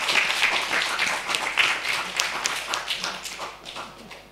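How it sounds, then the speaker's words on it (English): A church congregation applauds during a Sunday communion service, steady clapping from many hands filling the room, close and sustained before gradually thinning toward the end. "Shall we give him a big round of applause?"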